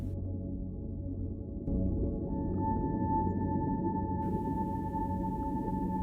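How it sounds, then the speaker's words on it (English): Deep, rhythmic whale song: a steady low drone with sustained tonal hum, continuous and moderately loud, with a faint higher tone joining partway through and no voices. "The whale song continued, deep and rhythmic, like the breathing of the world itself."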